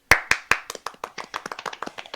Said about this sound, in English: can we all get a round of applause for Joe scoring one of his best interviews